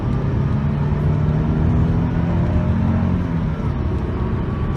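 A tired, high-mileage Acura Legend coupe with 543,000 miles heads up a highway on-ramp onto Loop 202 near Phoenix, a steady low engine and road drone heard from inside the cabin, loud and continuous.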